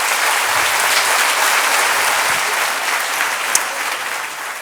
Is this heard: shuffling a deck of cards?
no